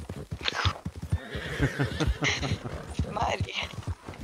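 Horse hooves clip-clop in the Red Dead Redemption 2 video game, with a horse's neigh and rhythmic steps close by, while players talk over the game sound.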